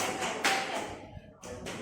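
A group claps and pats their thighs in rhythm, giving a few close, broadband slapping bursts with brief gaps between them, with voices mixed in.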